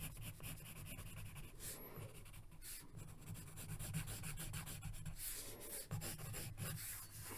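A pencil draws Darth Vader on paper with quiet, close scratching and rubbing strokes that come in short bursts with brief pauses between them.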